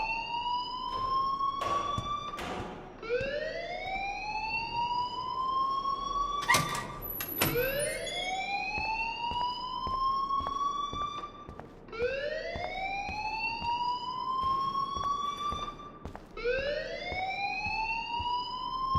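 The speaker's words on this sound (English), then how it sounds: "please turn off that alarm since that's your job" An alarm in the video game Life is Strange wails in loud, repeating rising whoops, each sweep climbing in pitch before restarting. It sounds steadily with no voices over it.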